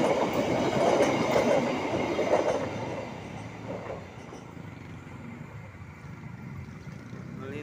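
Malabar passenger train passing by, a loud broadband rumble of rail cars on track that fades after a few seconds into a quieter steady roar, with light clatter and no talk.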